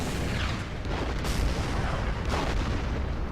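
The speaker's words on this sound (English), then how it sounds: "The artillery is gonna fire blind" Artillery fire in the strategy war game Order of Battle, set at Kursk, rolls as continuous rumbling booms with a couple of sharper blasts, dense and loud with no talking.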